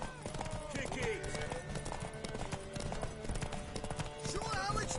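Horse hooves clip-clopping in a PS4 action video game, a busy rhythmic trot mixed with clashing effects and game music, fairly quiet overall.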